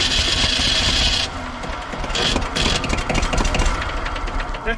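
A diesel roller compactor that has sat unused for 30 years cranks and sputters, its rough knocking engine chugging unevenly, loud and close, with bursts of hiss and clatter as it tries to catch.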